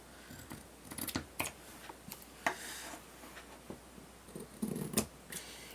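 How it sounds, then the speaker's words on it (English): Scissors snip the corners of fabric for a cosplay dress, a series of quiet, sharp close clicks and cuts at an uneven pace in a hushed room. "Now you're going to cut your corners."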